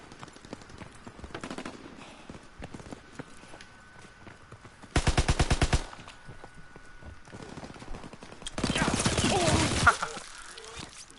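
Automatic gunfire in a PS4 shooter, arriving as two loud rapid bursts with quieter stretches and some distant shots between them.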